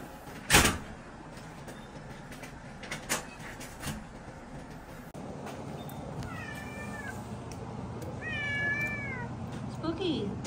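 Rescue cats meowing as they are packed up, several drawn-out mews near the end after a few clunks and knocks, with people talking nearby.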